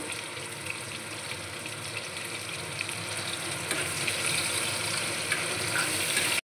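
Onions frying in hot oil in a pan while cooking a Bengali jackfruit and prawn dish, a steady dense sizzle that grows slightly louder over several seconds before stopping abruptly, close and without any speech.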